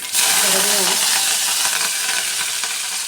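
Cumin, mustard seeds and green chillies sizzle in hot oil, a steady, loud frying hiss with faint crackles throughout, close up and continuous, with a voice briefly audible near the start.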